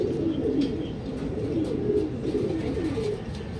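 Racing pigeons during a club training release in Lucban, Quezon coo faintly against a steady, low background rumble, with no talk over them.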